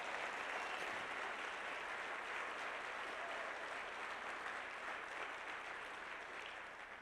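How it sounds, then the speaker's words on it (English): Convention audience applause at Les Brown's 2015 Max IGNITE Convention, a faint, distant and even roar of clapping that holds steady and eases slightly toward the end. "Give yourselves a round of applause."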